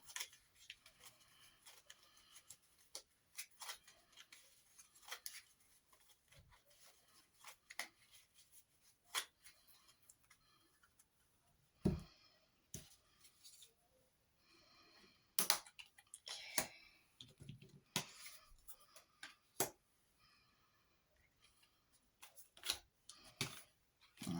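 Soft, scattered clicks and light papery flicks come in irregular bursts as a deck of tarot cards is shuffled quietly close by.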